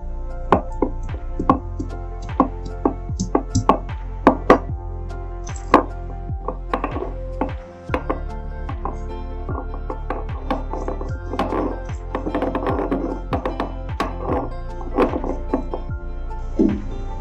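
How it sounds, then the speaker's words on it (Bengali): Ginger and garlic being ground into paste for an egg curry, with a steady run of close, rhythmic knocks and thuds continuing throughout with barely a pause. "এবার আমি আদা আর রসুনটাকে বেটে নেব।"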